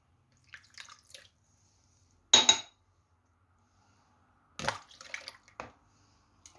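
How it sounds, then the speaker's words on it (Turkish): Milk, water and oil are poured into a kneading bowl for croissant dough, brief separate splashes and trickles with light clinks in an otherwise quiet kitchen. "Şimdi öncelikle yoğurma kabımıza sıvı malzemelerimizi alıyoruz."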